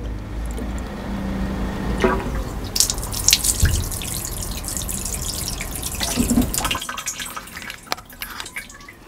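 Wastewater gurgles and trickles down the drain of a Dometic 9222 sink, a close, uneven flow with splashes and drips that tails off into quieter dribbling near the end.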